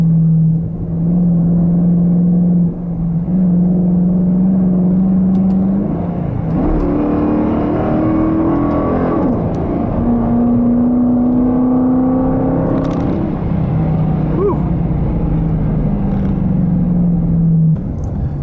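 A Dodge Challenger R/T's engine hums at a steady idle, then revs and accelerates with rising pitch, eases back and climbs again, a loud close rumble with no talking.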